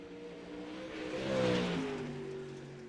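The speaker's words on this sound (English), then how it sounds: "Out on the racetrack right now is that number 20 car." The number 20 dirt-track race car at Kokomo Speedway, its engine droning steadily at a distance, swelling as it passes closer midway and then easing off again.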